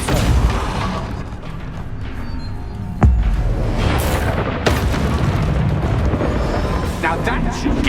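A Depulso spell blasting in the video game Hogwarts Legacy: a sharp, loud boom lands midway through a dense, rumbling game soundscape, followed by a smaller impact, with voices present in the mix.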